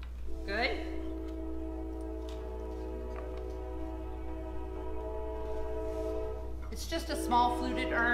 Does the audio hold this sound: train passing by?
yes